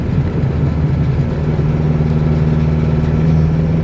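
A turbocharged Mitsubishi 4G64T engine pulls at wide open throttle in a car, a loud continuous low droning roar heard from inside with steady harmonic tones that rise slightly over the few seconds.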